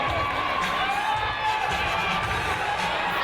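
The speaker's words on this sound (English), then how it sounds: "If you're a Quad Squad fan, let's cheer on Sequin Destroy her now." At a roller derby bout between Quad Squad and Vaudeville Vixens, a crowd keeps up steady cheering and shouting throughout, with scattered whoops over the constant roar.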